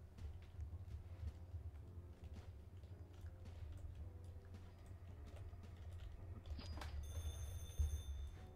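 A telephone rings repeatedly inside a Roblox toll-bridge simulator game, faint and buried under a constant low hum and scattered mechanical clicks.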